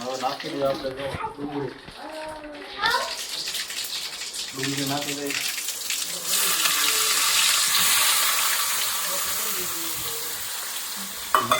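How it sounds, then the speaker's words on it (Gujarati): Onion dropped into hot tempered oil with mustard seeds and cumin in a home kitchen, bursting into a loud steady sizzle that persists to the end, with someone talking over the start. "હવે નાખી દઈએ આપણે ડુંગળી નાખી દઈએ"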